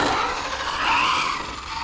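An HPI Maverick RC car with a 6S SpeedTek motor and ESC on a speed run, a loud continuous high whine and rushing roar held steady throughout.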